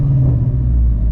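A manual-transmission car engine revved from idle toward 2,500 RPM, a deep steady rumble held close by for about a second with no voices.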